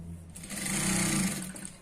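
A sewing machine stitches a short five-inch seam on a churidar pant, its motor whirring up into a steady close run and then slowing off.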